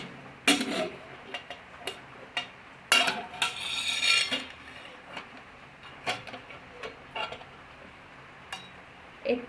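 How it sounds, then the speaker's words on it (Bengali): A pot of freshly cooked rice handled and set down in a home kitchen, with sharp metallic clanks and clinks in irregular bursts, close and fairly loud against a quiet room. "এখানে তোমরা দেখো আমি ভাতের হাঁড়িটা নিচে নামিয়ে রেখেছি।"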